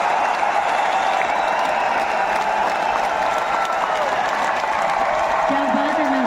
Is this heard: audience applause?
yes